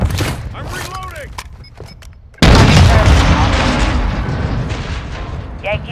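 A loud blast in Modern Warfare 2 co-op erupts suddenly and rumbles on, preceded by distant gunfire and muffled booms, with radio-style voices talking over the battle.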